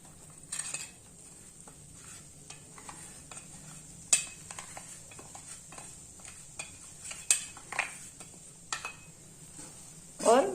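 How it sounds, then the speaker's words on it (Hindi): Besan (gram flour) stirred in hot ghee in a kadhai, with a spoon scraping and clinking against the metal in scattered taps and sharper knocks over a low steady background. "और बेसन को अच्छी तरह से मिला लीजिए, और इस बेसन को हमें सेक लेना है अच्छे से"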